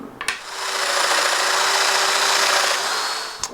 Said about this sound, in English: So I'll roughly set this up for about a 16 millimeter cut on this domino, and then we'll cut all these end pieces.